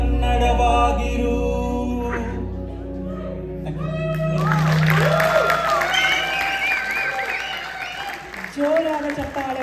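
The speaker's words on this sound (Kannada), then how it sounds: "ಜೋರಾದ ಚಪ್ಪಾಳೆ" Loud applause from an audience at a Deepavali celebration follows a father-and-son karaoke song. Singing and music fade into dense clapping and cheers mixed with crowd voices and children's chatter.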